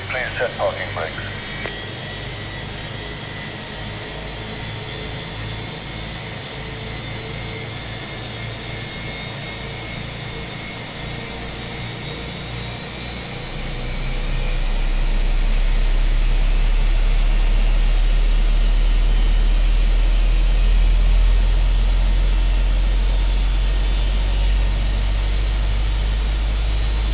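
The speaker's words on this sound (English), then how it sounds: "The rumble of these engines is just incredible." Airliner jet engines in a flight simulator game spool up after start, a steady broadband hiss giving way to a loud, deep, continuous rumble that swells and holds for the remaining seconds.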